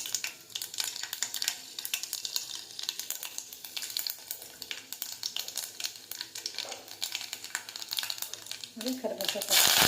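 Mustard seeds and chana dal sizzle and crackle in hot oil in a pan, with a bright, constant frying hiss and small pops that swell louder at the end, while someone talks over it.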